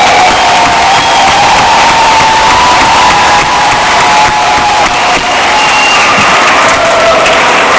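Audience at a career and technical education recognition ceremony applauds and cheers for honored students; steady, loud clapping with whoops fills the whole stretch, no speech over it.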